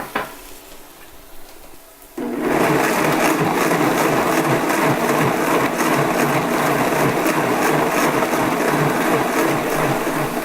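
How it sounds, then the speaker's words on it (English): A blender with added water switches on after a quiet moment and runs loudly and steadily with a harsh, churning whir until the end, blending ingredients for a Kerala fish curry. "I'm going to add some water to get the blender going."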